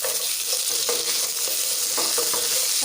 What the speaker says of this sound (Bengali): আমি এর সাথে একটু বড়িগুলোকে ভেজে নেব